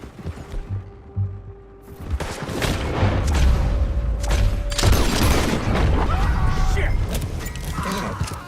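Gunshots and heavy booms in the Red Dead Redemption 2 video game on PS4, a sustained loud clatter of firing and mechanical clanks mixed under voices talking.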